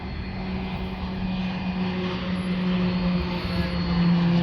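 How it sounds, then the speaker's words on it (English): A Beechcraft King Air military turboprop at Fort Bragg drones steadily overhead, its engine hum even and sustained with a slight swell toward the end, heard at a moderate distance. "There's a Beechcraft King Air!"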